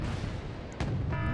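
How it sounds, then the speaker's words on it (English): ATGM missiles strike a Leopard 2A4 tank in Wargame Red Dragon, a low rumbling battle bed broken by a sharp blast with a longer boom following, loud and close. "Leopard takes a couple of missiles"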